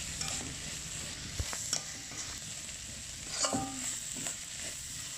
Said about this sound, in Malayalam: അതിനുശേഷം വീണ്ടും നന്നായി ഇളക്കി കൊടുക്കാം.